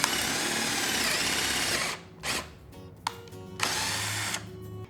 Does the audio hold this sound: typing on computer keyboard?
no